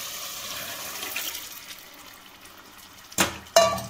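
Dissolved gravy mixture for a fried vila fish curry is poured into a clay pot, a soft running liquid trickle followed by two sharper splashing pours near the end.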